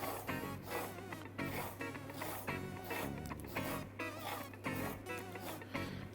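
A salsify root is peeled by hand for a vegetable and seaweed broth, giving a series of soft, rhythmic scraping strokes, about a dozen, fairly faint over a low steady hum.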